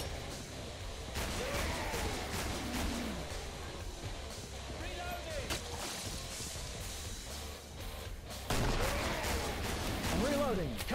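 Gunfire in Killing Floor as zombie minions are shot, a series of sharp, fairly faint shots and impacts spread across the clip, with players talking over the action.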